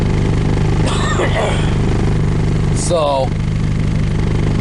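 A diesel engine runs steadily after a cold winter start, its gears churning through thick, heavy gear oil, a constant loud low rumble throughout with a person talking over it briefly.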